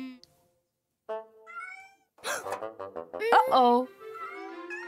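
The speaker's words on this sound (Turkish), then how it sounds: "O yavru kedi nereye girmiş olabilir?" A cartoon kitten meows several times, with high, wavering cries, in an animated children's show, mixed with short bursts of childlike voices speaking.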